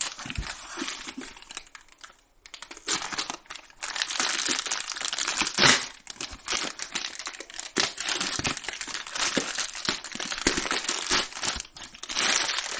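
Packaging of an HTC One M8 smartphone being unboxed, with close crinkling, tearing and rustling of plastic and cardboard in irregular bursts throughout, no talk.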